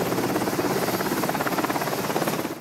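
A Navy helicopter flying a short hop between ships in the southern Red Sea, its rotor chopping in a fast, steady loud pulse with a whining hum above, close and continuous before easing slightly at the end.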